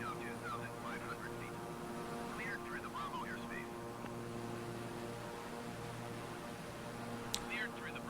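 An airplane flies in Microsoft Flight Simulator 2020 over Universal Studios Orlando, a steady droning engine hum with even tonal layers that holds throughout, with some faint chirping sounds on top.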